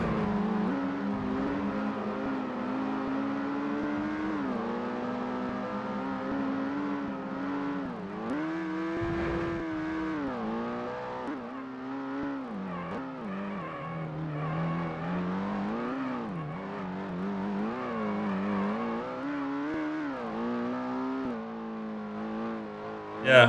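A racing car engine in the PS1 game Ford Racing revs and shifts continuously, its pitch sweeping up and down through gear changes, loud and close throughout with a brief dip near the middle.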